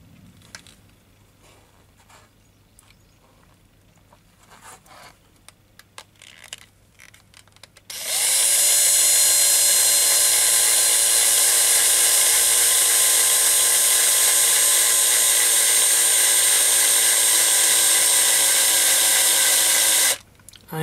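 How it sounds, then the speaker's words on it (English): A power drill bores steadily into the metal posts of a Matchbox Y-14 Duke of Connaught diecast model, making a loud continuous whine for about twelve seconds that starts abruptly and cuts off sharply, after quiet handling noises. "drill into these posts to create a tapped hole for screws to replace the rivets"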